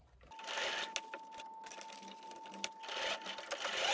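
A sewing machine stitches pieces of a skirt together in a steady, close whirring run that pauses briefly now and then, with a faint constant tone underneath.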